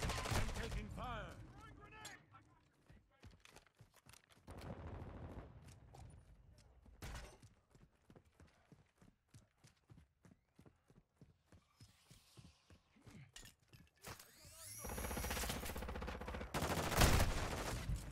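Gunfire in a Call of Duty video game: a long run of sharp, evenly spaced single shots, then heavier bursts and explosions near the end, with voices talking in between.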